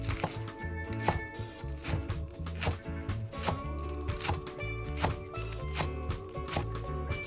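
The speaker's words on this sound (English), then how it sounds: "you chop your chive" Rapid knife chops through chives on a cutting board, a steady rhythmic tapping with brief pauses, close and clear over a faint musical background.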